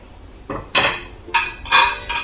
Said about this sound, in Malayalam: ശേഷം നമുക്ക് കുക്കർ അടച്ചു വെച്ച് വേവിക്കാം